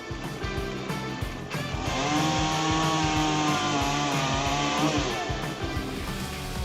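A Stihl MS-881 chainsaw cuts through wood at steady high revs, its loud engine snarl holding under load with a rising pitch toward the end of the cut, up close and alone.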